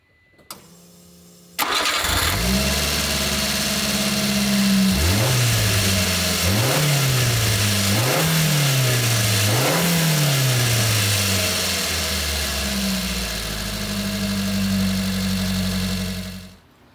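A Subaru Sambar engine cranks briefly, catches and starts, then revs up and down several times in quick bursts before settling into a steady idle, after a part was replaced for an electrical leak causing power loss.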